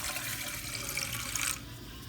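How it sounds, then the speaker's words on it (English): Water pours steadily into a pot for cooking Indomie instant noodles, a continuous close hiss that cuts off abruptly about three-quarters through, leaving quiet room tone. "Just be adding in our water."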